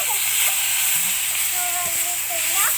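Previously fried carrots and peas hit a hot pan of melted tomato, raising a steady, broadband sizzle and hiss that holds at an even level throughout.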